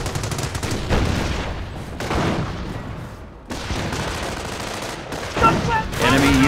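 A Company of Heroes battle at Cauquigny, with dense machine-gun bursts and rattling rifle fire rolling in heavy waves, punctuated by louder booms and shouted soldier voices in the mix.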